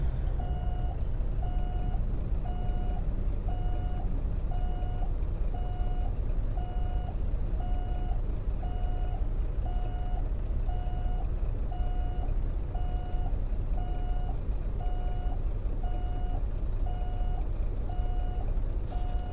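A Freightliner Argosy truck backs up a trailer in American Truck Simulator, its reversing alarm beeping at a steady, even rhythm over a constant low engine rumble, with no voices.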